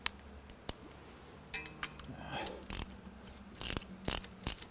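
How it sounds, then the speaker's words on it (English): A ratchet wrench clicks in short bursts while tightening a spark plug in a Mercedes 560SEC engine, the sharp metallic ratcheting coming close and loud between quiet pauses. "Now I'll run it in the rest of the way with the ratchet wrench"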